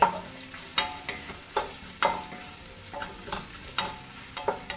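Small onions frying for ghee rice are stirred with a spoon, giving steady scraping strokes about once a second over a continuous close sizzle, with no talking.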